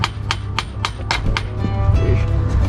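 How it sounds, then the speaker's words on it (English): A hammer knocks repeatedly on a stuck boat rudder, about six sharp metallic strikes in quick succession, close and loud, followed by a few softer taps. "Maybe a hammer just like knock this thing."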